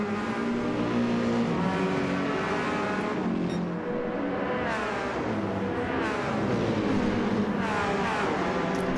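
Race cars lapping the Nürburgring Nordschleife in a club race, engines droning and revving continuously as several cars pass close by, with rising and falling pitch throughout.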